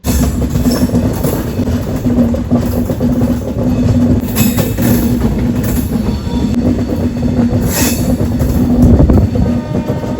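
The 17209 Sheshadri Express rolls along the rails near Chittoor with a loud, continuous rumble and clatter. Wheel squeal rises now and then, heard up close from inside the moving train.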